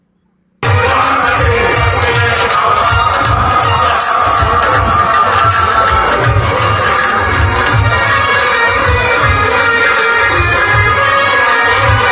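Large crowd gathered at a rally for India's prime minister in Punjab, a dense, loud, continuous roar of many voices with cheering and shouting that starts abruptly after a brief silence and holds steady.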